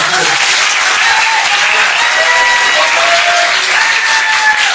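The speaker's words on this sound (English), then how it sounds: "let's give Brian a big clap" An audience at a cross-country team banquet gives loud, sustained applause, dense clapping from a full room with faint voices mixed in.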